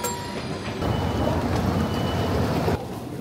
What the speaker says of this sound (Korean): 여기는 기차역 아닌가요?